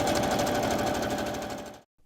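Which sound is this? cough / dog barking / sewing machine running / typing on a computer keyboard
sewing machine running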